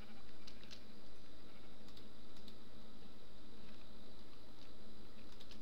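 Faint Minecraft sheep bleats sit over a steady low background hum, with a few soft clicks scattered throughout.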